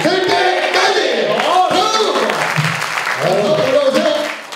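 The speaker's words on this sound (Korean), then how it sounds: "박수 주세요." Audience applause at a live Korean talk show with a CEO guest, a dense, steady wash of many hands clapping close and loud for several seconds, mixed with voices and cheering, fading slightly at the end.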